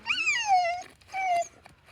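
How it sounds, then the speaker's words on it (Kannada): A tied-up dog whimpers nearby in two drawn-out, falling whines, the first longer, separated by a short pause. "ನೋಡ್ರಿ ಅಲ್ಲಿ ನಾಯಿ ಐತಿ"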